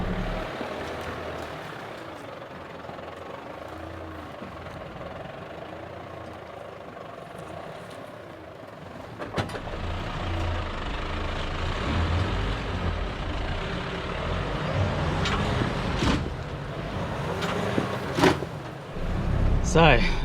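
4WD vehicle grinding in low first gear up a rutted, slippery muddy hill climb, a steady low engine drone that builds and grows louder with knocks and thumps toward the end, while someone talks over it.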